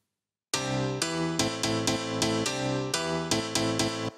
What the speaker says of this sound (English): if you want to thicken up the sound on this and make it a bit more rough, you could add in some more compression.